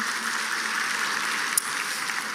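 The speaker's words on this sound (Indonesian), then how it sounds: "Kasih tepuk tangan yang paling meriah buat Allah kita" Steady applause from a large crowd at a church service fills the space, even and sustained throughout.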